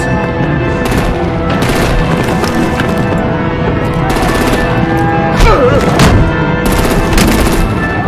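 Artillery gunfire and explosions from the video game Batman: The Enemy Within come as a dense, loud, continuous barrage of rapid shots and booms over a layered game soundtrack.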